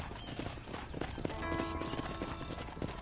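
Horse hooves clip-clop steadily in Red Dead Redemption, a busy rhythmic clatter with a brief whinny and some game background sound layered underneath.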